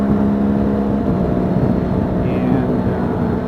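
A BMW R1200 GSA motorcycle cruises through a canyon, its engine humming in a steady, loud, close drone with wind noise.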